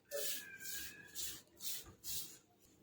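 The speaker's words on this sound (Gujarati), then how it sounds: "હવે સરસ એને મિક્સ કરી લઈશું. એટલે એમ કે મોઈ લેવાનો લોટને સરસ એવો." Hands rub ghee into coarse wheat flour for churma in a bowl, giving four or five soft, close, rhythmic gritty rubbing strokes separated by short pauses, with no voices.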